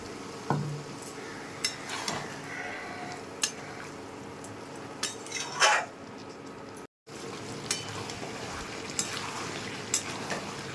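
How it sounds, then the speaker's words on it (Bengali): Chopped bottle gourd sautéing in a pan, a steady low sizzle broken by scattered clinks and scrapes of a spatula stirring against the metal, no voices. "এটাকে একটু কষিয়ে নেব, ভালোভাবে কষিয়ে নিয়েছি।"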